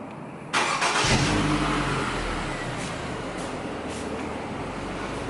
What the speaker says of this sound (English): I'm gonna start the car up real quick.